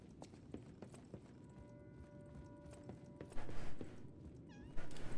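A cat meows briefly near the end, a short rising cry in the Lies of P video game, over a dim, rumbling ambient game background with scattered clicks.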